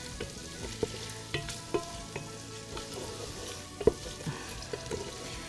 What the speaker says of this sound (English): you're just going to saute this just a little bit until you get the fragrance of the garlic